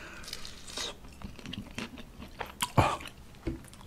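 Crispy fried pork lechon kawali being bitten and chewed up close, a run of irregular crunchy bites and mouth noises with one sharper loud crunch near the end.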